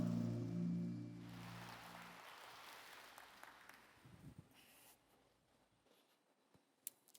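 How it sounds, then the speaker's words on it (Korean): A church congregation claps in praise during an anniversary worship service, the applause swelling after a held musical chord and then fading out to near silence with a few scattered claps. "하나님께 영광의 박수 올리겠습니다"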